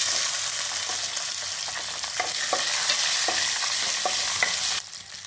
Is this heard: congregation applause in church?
no